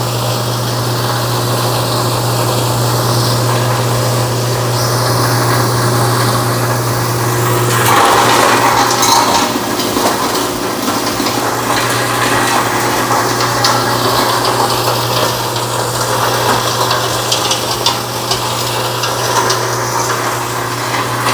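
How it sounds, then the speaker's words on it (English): A BDG Compact 1 mini plastic granulator runs loudly and continuously with its blower fan turned up, giving a dense, steady roar and grinding whoosh that swells slightly partway through. "you started seeing plastic coming up to the front here. I just turned the blower fan up."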